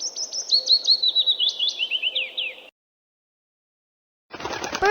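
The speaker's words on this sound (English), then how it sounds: "Bird." A small bird chirps in a quick run of bright, high tweets for a few seconds, then falls silent before another burst of sound starts near the end.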